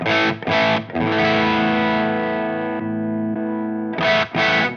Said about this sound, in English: Let's listen to the drive range on the OD1, starting from 0.